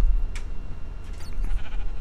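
Minecraft sheep bleat in the game, a short sharp baa near the start followed by a longer, wavering bleat, loud and close with no speech.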